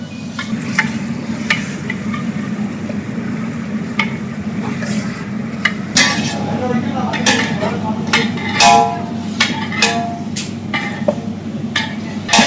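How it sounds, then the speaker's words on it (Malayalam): Biryani masala with garlic paste is stirred in a pot, giving repeated scraping and clinking of a utensil against metal over a low sizzle. A voice talks faintly underneath. "അടിയിൽ ഒട്ടിപ്പിടിക്കാതെ എപ്പോഴും അത് ആവുന്ന വരയ്ക്കും നമ്മൾ ഇളക്കിക്കൊണ്ടേ ഇരിക്കണം."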